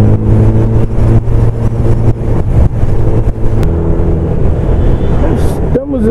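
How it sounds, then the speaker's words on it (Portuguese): A brand-new Ninja 1000 motorcycle is ridden hard on the road with new tires, producing loud, continuous wind roar over a revving engine drone; a voice briefly speaks near the end. "Estamos esticando para tirar a cera do pneu da motoca do Marcinho."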